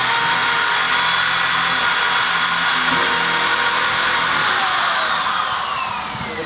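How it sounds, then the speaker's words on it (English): Power drill boring a hole for a hurricane fabric anchor, a loud, steady high-pitched whine that holds for several seconds before easing slightly at the end. "then we'll go ahead and drill out our next anchor"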